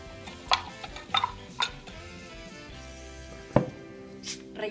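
A spoon stirs a caipirinha of rum and ice in a glass, giving a few light, close clinks and taps at irregular intervals over quiet background.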